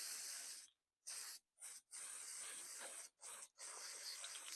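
Spray paint hisses onto an RC car body shell, a TT01e Neon carro, in several bursts of a steady close spray separated by short silent pauses.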